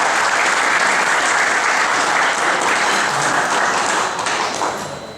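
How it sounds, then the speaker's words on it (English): A loud, full round of applause from an audience at a railroad museum gathering, dense sustained clapping that fills the room and then tapers off near the end. "So please give yourselves a round of applause for that."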